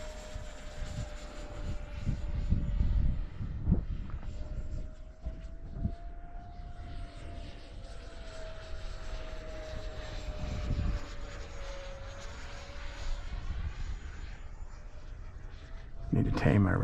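A Freewing 70mm F-16 RC jet with its gear retracted flies in about 10 mph wind, its ducted-fan whine rising and falling in pitch as it passes at a distance, heard beneath someone talking and wind buffeting.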